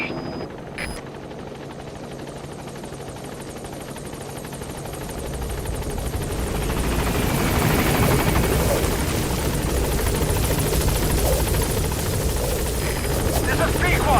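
In Metal Gear Solid V, a helicopter approaches a landing zone, its rotor thump and engine roar swelling from a distant hum to a loud, close, steady drone, with a radio voice speaking over it.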